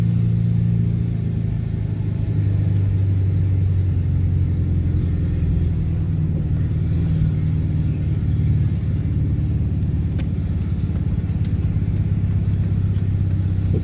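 Steady, loud low rumble of a car engine running while driving on a road in Urucuia, Minas Gerais, continuous throughout, with a car whose steering seems faulty.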